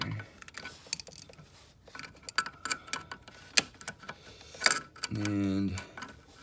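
A ratcheting wrench works a bolt on the EGR valve of a 2000 Ford Focus ZX3 with a Zetec 2.0 engine: irregular close metallic clicks and taps, ending in a quick buzzing ratchet run.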